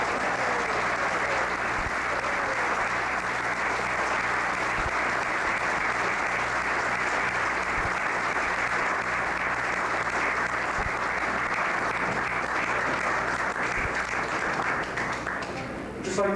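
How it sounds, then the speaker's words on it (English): A crowd at a women's professional wrestling event gives loud, sustained applause, a dense wall of clapping that holds evenly for the whole stretch. "let's give a round of applause and a great welcome to Gorilla Monsoon."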